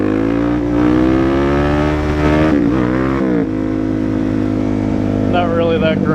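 A Suzuki DR-Z motorcycle engine revving loudly and close during a wheelie, a rising buzzing rasp that briefly dips and stutters before holding a steady high note, with a voice heard near the end.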